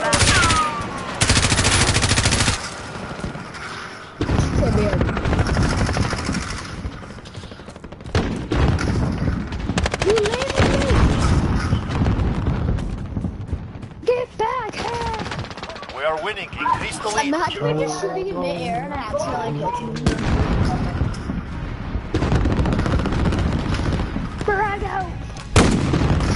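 Call of Duty gunfire and explosive booms crackle in dense bursts throughout a battle, loud and close, with a player talking over much of the action.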